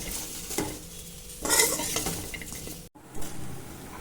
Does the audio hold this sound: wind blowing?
no